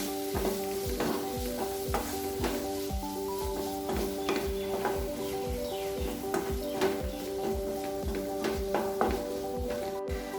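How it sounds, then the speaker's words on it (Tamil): Tomato being stirred into dal fry in a pan: a continuous sizzle with a steady run of repeated spoon scrapes and clinks against the metal, a close rhythmic stirring with no talking. "நல்லா மிக்ஸ் பண்ணிடலாம்."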